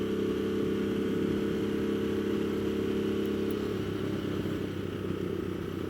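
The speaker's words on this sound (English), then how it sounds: "Just have to accept the fact you're going to be hearing some revs." A Ducati Multistrada motorcycle engine idles and revs steadily up close, a continuous throaty drone that dips slightly near the end.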